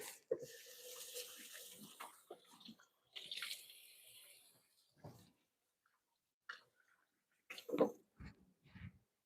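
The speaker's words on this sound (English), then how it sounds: "Let me give my hands a quick rinse." A kitchen tap runs in short bursts while hands are rinsed, with splashing water between quiet pauses and a few faint knocks near the end.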